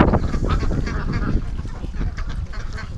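Ducks on a breeding farm in spring, with a loud, busy chorus of overlapping quacks and honks close by, no talk.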